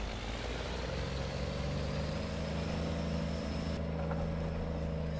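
Cummins diesel engine of a Volvo VNL truck in American Truck Simulator runs with a steady low droning hum and a faint whine, continuous and moderately quiet.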